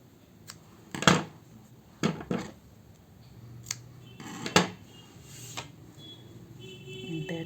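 Scissors snip through the yarn tail of a crocheted jar cover, giving a few crisp, close cuts spaced apart among light handling noises.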